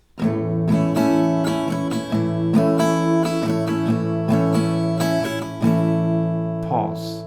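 An acoustic guitar strums a ringing chord in a repeated pattern, several rounds of strokes and a final held strum fading out.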